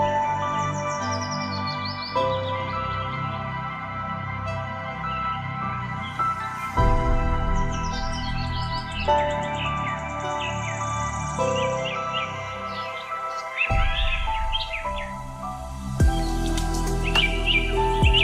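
Many birds at Ranganathittu bird sanctuary beside the Kaveri river call and chirp together in a dense, layered chorus of repeated tweets and whistles, some near and some farther off, carrying on without pause.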